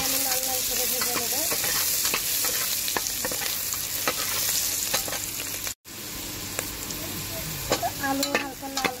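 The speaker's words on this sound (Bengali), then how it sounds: "আলুগুলো আমি লাল লাল করে ভেজে নেব" Potatoes with turmeric frying in oil in a pan, a constant close sizzle broken by frequent clattering stirs of a utensil, briefly cutting out for an instant midway, with no talk.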